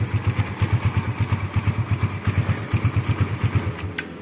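A fuel-injected Suzuki Satria F motorcycle engine idles at low RPM up close, its steady, rapid lumpy pulse loud and alone, with no voices over it.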